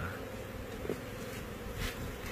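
Bees buzzing around a large queen bee, a dense continuous droning hum close by with no talking.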